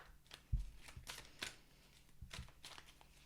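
Tarot cards shuffled and handled in short bursts, soft papery riffles and flicks with small pauses between, close and quiet with no talking.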